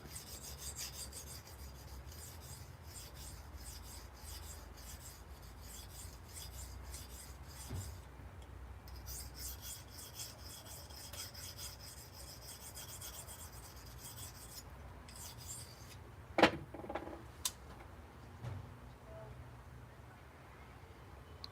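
A knife edge scraping across a coarse sharpening stone, a steady low rasping rub that runs continuously at low volume, with a few brief sharper clicks toward the end.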